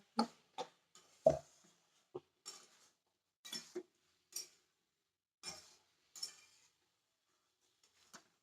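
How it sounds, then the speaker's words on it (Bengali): A spoon stirring soybean and potato curry in a pot makes a series of sharp, irregular scraping clinks and knocks against the metal, close and separated by quiet gaps, with no voices. "এবার একটু নাড়াচাড়া করবো"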